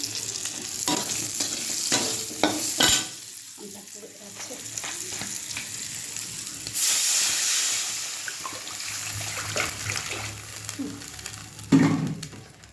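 Food frying in a pan after turmeric is added, with close scraping stir strokes over a soft sizzle, an irregular rhythm of clinks and scrapes, and a brief burst of louder sizzling partway through.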